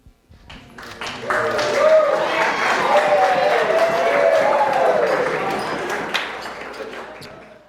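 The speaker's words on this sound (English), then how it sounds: "let's cheer to Ivan and Shelly" Wedding guests for the couple Ivan and Shelly break into sustained cheering, whooping and applause that swells quickly and holds for several seconds at a reception, loud and close, then drops off.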